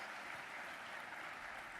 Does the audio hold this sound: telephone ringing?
no